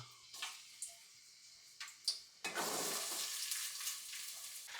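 Finely chopped onion dropped into hot oil, starting with a few light clinks before a sudden loud, close sizzle that then holds steady and dense.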